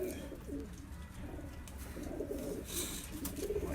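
Golden pigeons coo softly in a low, murmuring rhythm against a faint busy background, with brief rustles and no clear speech.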